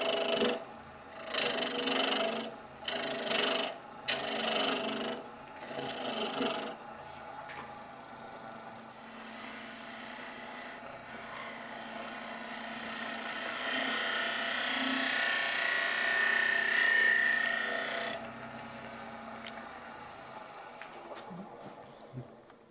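A wood lathe spins a small wooden Christmas tree blank with the weight being cut away, giving a steady whirring hum with scraping tool noise. Choppy bursts come first, then a longer continuous cutting stretch that fades to quiet near the end.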